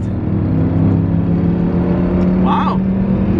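Loud engine roar from a Mustang and a Ram pickup truck racing, steady and close throughout, with a brief whine rising near the end; voices talk over it.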